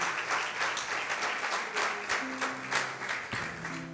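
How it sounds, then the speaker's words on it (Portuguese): A church congregation clapping together during a Christmas service, sustained crowd applause with a few louder individual claps, moderately loud and even, with faint voices beneath. "Pode aplaudir ao Senhor Jesus."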